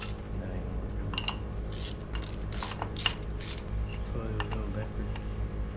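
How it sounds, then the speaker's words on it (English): Wrenches loosen nuts on a crashed dirt late model race car, giving quick metallic ratcheting clicks and clinks at close range, with people talking over the work. "hold it right here and loosen this up. And then while you're doing that, I'll be taking the nuts off."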